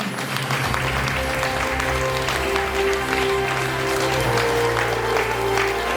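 A festival audience gives the jury steady, enthusiastic applause, a dense sustained wash of many hands clapping at moderate distance, with a faint musical tone underneath.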